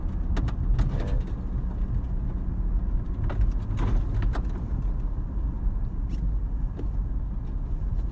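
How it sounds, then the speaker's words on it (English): A car driving slowly over rocks on a road, with a steady low engine and road rumble broken by scattered crunching and knocking from the stones, heard from inside the vehicle. "sorry, my car is just making some sounds, but it's just the rocks I'm driving on"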